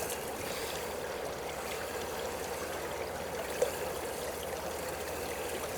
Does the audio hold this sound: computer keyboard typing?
no